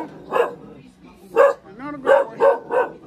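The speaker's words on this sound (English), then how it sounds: "Every family has at least one dog." A dog in a slum neighbourhood of Binangonan, Rizal Province, barks in a short irregular series of five yaps at moderate distance, with a brief whine in between.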